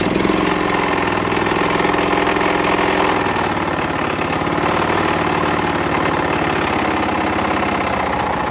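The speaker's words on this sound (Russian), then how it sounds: "Двигатель запустился" A small walk-behind tractor engine, just rebuilt, runs close by with a rapid, steady chugging throb and rattling vibration, loud and continuous throughout, with no talking.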